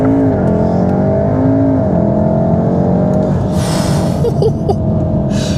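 A Mountune-tuned VW Mk7.5 Golf R launching hard under launch control, its engine droning loud and close from inside as the pitch climbs through first gear, with a sharp burst of noise partway through.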